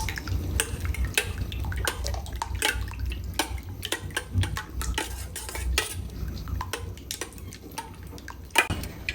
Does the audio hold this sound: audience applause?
no